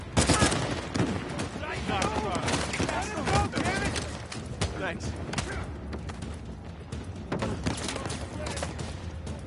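Rapid gunfire in the video game Uncharted 4: A Thief's End, dense overlapping shots and bursts running steadily throughout, with a voice speaking over the fighting.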